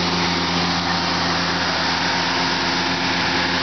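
Fire engine Engine 4 running a steady pump while drafting water from a pond through dual six-inch lines at a relay pumping drill, a loud continuous engine drone with no breaks.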